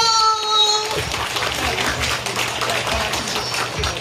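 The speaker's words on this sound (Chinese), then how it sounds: "掌声不间断" Continuous applause and clapping from a crowd at a Taiwanese election victory rally for a newly elected candidate, steady and dense after a brief tonal intro, with some voices mixed in.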